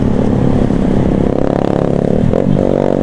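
Motorcycle with a standard stock exhaust ridden at night on a homeward holiday trip, engine drone loud and close with shifting pitch and some rattling clatter throughout.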